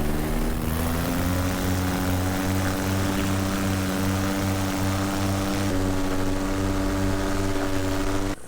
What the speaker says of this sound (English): I'm already building confidence with this motor just from the feel and the sound of it.